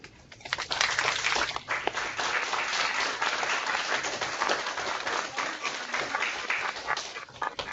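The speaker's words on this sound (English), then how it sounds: "join me in giving a warm round of applause and a welcome" An audience applauds to welcome Pro Football Hall of Famer Fred Dean, steady dense clapping that stays loud and sustained throughout with no talking over it.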